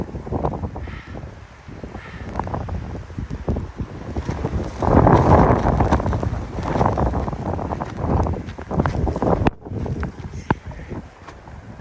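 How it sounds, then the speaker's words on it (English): Strong blizzard wind buffets an insulated tent in deep snow, roaring in loud surging gusts with heavy wind noise on the microphone throughout. "That is some wind, guys."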